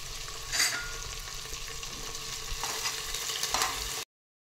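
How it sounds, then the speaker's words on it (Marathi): Cabbage, tomato and beetroot fry in oil with a steady, close sizzle, broken by a few louder crackles and stirring scrapes. There is no talking, and the sound cuts off sharply. "पहा तेलामध्ये भाज्या छान अशा शिजत आलेल्या आहेत"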